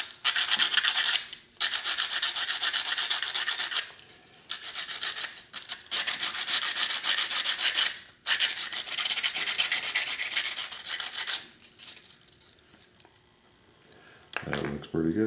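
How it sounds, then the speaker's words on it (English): Sandpaper rubs briskly against a small kerosene lantern part in close, rasping bursts of strokes broken by short pauses, the scratching fading toward the end. "Getting a piece of sandpaper here."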